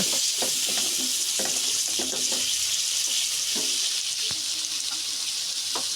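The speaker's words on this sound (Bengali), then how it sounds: "এবার সবগুলো ভালোভাবে নেড়ে চেড়ে ভাজা ভাজা করে নিচ্ছি।" Chicken with ginger garlic paste fries and sizzles in a pot for haleem, a steady hiss overlaid by repeated soft scrapes and knocks of stirring, close and fairly loud.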